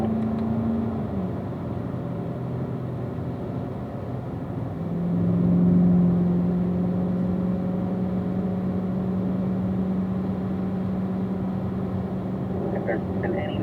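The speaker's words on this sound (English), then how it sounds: "We're going to do a nice warm-up lap here, and then Nick" A Corvette on a race track during a warm-up lap, heard from inside as a steady engine drone and road rumble with one rising engine tone partway through, under continuous talk.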